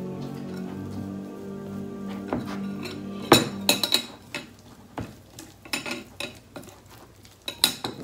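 Stirring a homemade natural lotion mixture into shea butter in a bowl, with irregular clinks and scraping taps of a utensil against the container, some sharp and close, separated by brief pauses.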